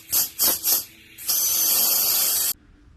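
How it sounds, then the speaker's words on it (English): Pressurized air escapes from a turbo boost leak on a no-prep drag race car: three short puffs, then a loud, steady, close hiss for about a second before it cuts off. "I heard air flowing out of that sucker, like I was just holding the freaking air hose wide open"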